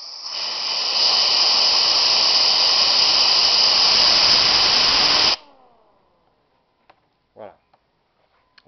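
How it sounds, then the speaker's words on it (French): Compressed air jet blown onto a fan during a thrust test: a loud, steady, broadband hiss lasting about five seconds that cuts off abruptly, followed by near silence with a few faint ticks and one brief clack. "Voilà, donc là, j'envoie le jet d'air dessus."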